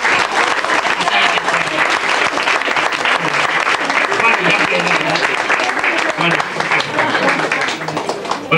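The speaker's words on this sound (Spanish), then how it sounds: "Por favor, denle un fuerte aplauso a Juan." Sustained applause from a theatre audience for Juan, loud and dense throughout with crowd noise mixed in, easing slightly near the end.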